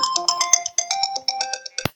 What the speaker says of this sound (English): I wasn't expecting my phone to ring in the middle of this lesson.